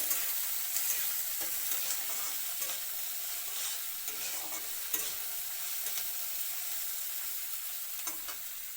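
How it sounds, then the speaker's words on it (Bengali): Chopped onions with mustard seeds, nigella seeds and green chilli fry lightly in a pan, a soft continuous sizzle broken by repeated scraping stirs of a spatula. "পেঁয়াজটা হালকাভাবে ভাজা করতে লাগবো"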